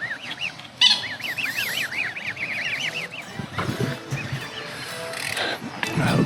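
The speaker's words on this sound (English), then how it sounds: "A little duckling trying to eat my shoe." A little duckling pecking at a shoe, giving a rapid run of high, thin peeps close by in the first half, then fading under rustling and low handling noise.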